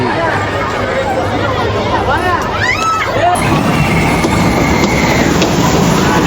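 A children's ride train at the PAF Museum in Karachi rumbles along with a steady clatter. A few squealing, whistle-like tones rise and fall in the middle, and crowd chatter sits underneath throughout.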